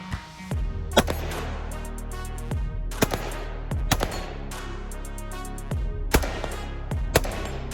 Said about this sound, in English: just seeing all the shooting that we did with this Springfield Saint, the Victor